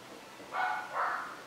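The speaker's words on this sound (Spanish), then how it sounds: "No le hagan mucho caso a mi perro." A pet dog barks indoors, two short muffled barks in quick succession, moderately close, with no talk over them.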